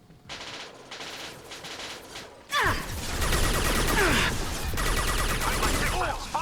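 Rapid automatic gunfire from a lightning gun in the video game Mass Effect 2, short bursts at first then a louder sustained barrage of crackling shots with impacts, fairly close.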